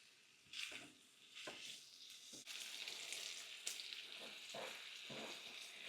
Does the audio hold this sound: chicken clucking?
no